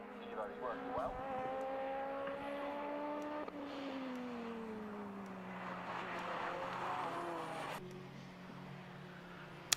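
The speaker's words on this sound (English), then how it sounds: "So watching the Martin Henry Vauxhall Astra" A Vauxhall Astra race car at the Knockhill circuit drones steadily, its engine note sliding down and shifting with gear changes, heard at a distance under race commentary.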